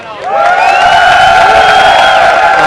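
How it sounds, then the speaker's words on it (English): Esports crowd at an MLG Providence finals match, EG versus TSM, cheering loudly and continuously, a sustained roar of shouts and whoops from a large arena audience. "let me hear a cheer for Epic in the crowd and at home"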